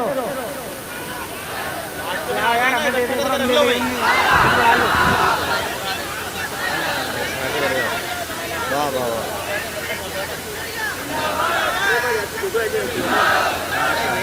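A large crowd chants and cheers together at a religious gathering, a loud, sustained roar of massed voices rising and falling throughout, with speech mixed into the din.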